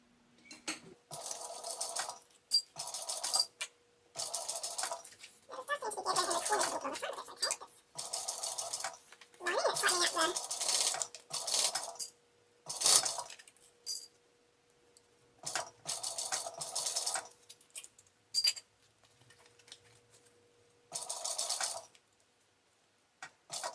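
Sewing machine stitching back down past the seam of a small fabric tablet tote bag, running in short close bursts of rapid mechanical whirring separated by quiet pauses.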